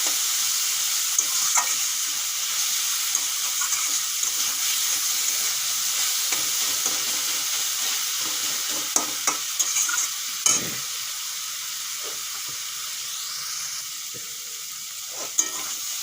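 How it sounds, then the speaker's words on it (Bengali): Pumpkin greens (kumro shak) frying in a pan after their water has cooked off, with a continuous hissing sizzle and scattered clicks and scrapes of stirring throughout. "দেখুন বন্ধুরা জল টেনে গেছে এখন আর অল্প একটু ভাজা হবে"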